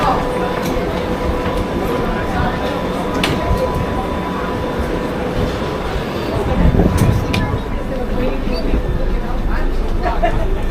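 A London Underground Piccadilly line train in motion gives a continuous rumble and rattle with occasional squeals and clanks, growing louder partway through, while people chatter in the carriage.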